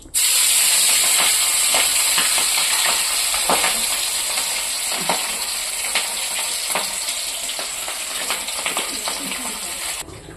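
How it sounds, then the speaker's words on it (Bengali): Rohu fish fries in hot oil in a wok, giving a loud continuous sizzle and hiss with crackling pops throughout, then cutting off abruptly near the end. "মাছটা এখন ভাজা করে নেব।"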